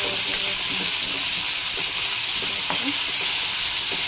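Onions sizzle in a hot pan, a steady loud frying hiss with faint stirring knocks underneath, with a voice speaking over it.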